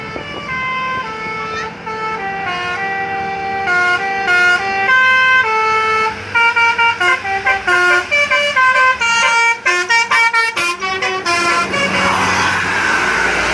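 A Nagita Transport bus sounds its melodic telolet horn on the Sambeng climb in Gunungkidul, loud and close, playing a long run of bright, stepping musical tones that quicken into rapid overlapping blasts near the end, with an engine rumbling beneath.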